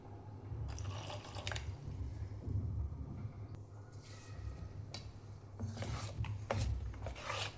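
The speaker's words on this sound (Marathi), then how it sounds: "जास्त नाही, अर्धा कपच पाणी टाकायचं आहे" Water is poured into a thick semolina (rava) idli batter, producing soft, steady trickling and dripping sounds close by, with a low background hum and no talking.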